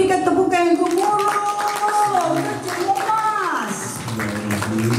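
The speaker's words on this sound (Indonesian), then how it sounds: "Kita berikan tepukan yang" Applause from a fan audience at a singer's showcase concert, clapping steadily beneath loud music and voices, with speech and singing running over it.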